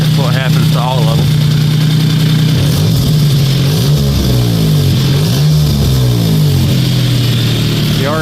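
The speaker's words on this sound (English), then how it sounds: "The RPM drops a lot faster than it did, so beforehand when he would rev it up like that, it would take a while to come back down." A blue Metro car's engine, with a suspected broken spring in the idle air control valve, revs up and then settles back toward idle, a steady mid-pitched engine drone that rises and falls, loud throughout with voices talking over it.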